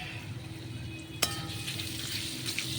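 Mango pieces with salt fry in a pan, giving a quiet, continuous sizzle with one sharp metallic clink of a utensil against the pan partway through.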